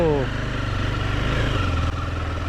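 A motorcycle engine runs steadily close by as the bike turns and sets off on rocky laterite ground on a ride toward Ganpatipule, a continuous low rumble throughout with voices faintly over it.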